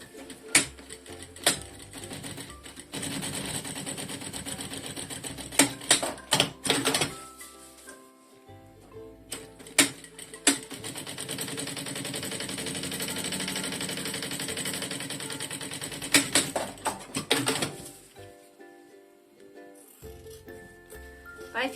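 A sewing machine runs in bursts while stitching close to the edge of a lining on a small animal mini backpack, a steady mechanical whir broken by pauses and sharp clicks, fairly quiet and close.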